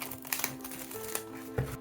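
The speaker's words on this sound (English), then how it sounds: "Handy scissors." Scissors snipping through packaging to open a Maylong 4x4 robot toy kit, a quick series of close, crisp cuts and rustles with sharper clicks spaced across the moment, no talking.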